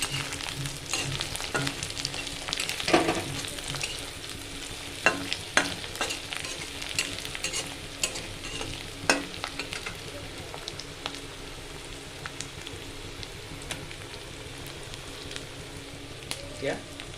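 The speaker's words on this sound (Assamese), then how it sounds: "ভাজি থোৱা মাছবিলাক দি দিলোঁ।" Fried fish pieces go into a sizzling pan of fermented bamboo shoot for a sour fish curry, with soft frying crackle and occasional stirring clatters throughout, fairly quiet.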